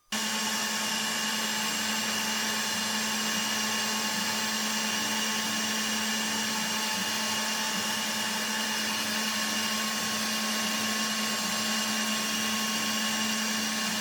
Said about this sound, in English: This dust system covers most machining jobs, perfect for small parts or detailed cuts on your HiMill D1S.